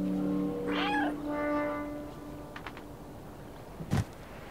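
The cat in the video game Stray gives a couple of clear drawn-out meows at the start, followed by quieter small sounds and a short thump, with no voices.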